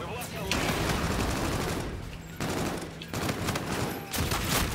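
Bursts of automatic gunfire in Call of Duty: Infinite Warfare multiplayer, loud and close, with sustained volleys broken by two brief gaps and dense game noise throughout.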